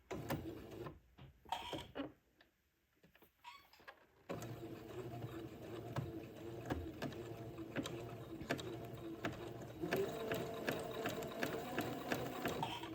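Sewing machine stitching a narrow zigzag along the header of lace for a wedding dress, a quick mechanical whirring chatter with a brief pause near the start, then steady running close by.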